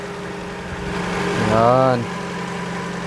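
A Toyota Vios with a repaired hose fires up on a single crank and settles into a steady idle, a brief rising rev near the middle, with someone speaking over the engine.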